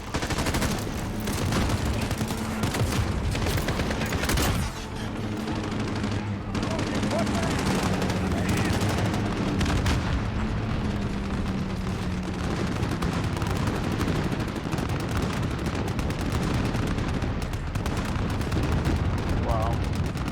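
Gunfire in a video game battle: dense, continuous bursts of shots and booms fill the scene, with a voice speaking over the steady barrage.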